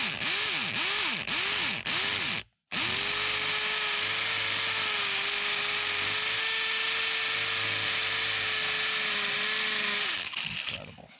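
A hammer drill fitted with a brand new bit bores into material while building a composite deck's sub-structure: a few short ratcheting bursts, a brief stop, then a long steady loud whine of continuous drilling before it winds down.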